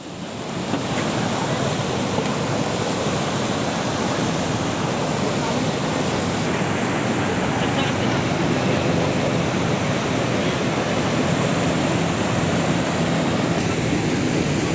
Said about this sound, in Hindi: और इतना तेज़ बहाव आ रहा है ऊपर से